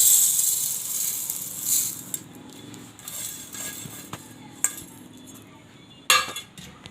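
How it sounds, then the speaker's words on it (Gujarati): Cooked moong dal is scooped into a small mixer jar with scraping and light metallic clinks of a spoon against the container, ending in a louder clatter. "હવે આપણે આમાં મિક્સરના નાના જારમાં નાખી દેવું"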